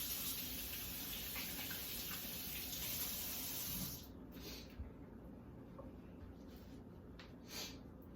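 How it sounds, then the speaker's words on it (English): Water runs from a kitchen tap while hands are washed, a steady close rush for about four seconds before it cuts off, leaving faint rustles and drips. "hold on a second, gotta wash my hands"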